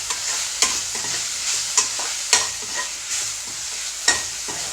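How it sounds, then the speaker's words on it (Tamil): Drumstick leaves tossed with turmeric powder in a frying pan, stirred with a spatula that gives several sharp scrapes and clacks over a steady soft sizzle, close and alone. "நல்லா கிண்டிக்கோங்க."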